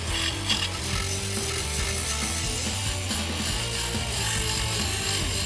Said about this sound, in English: now I've got to come back with a little small grinder to prep the surface around here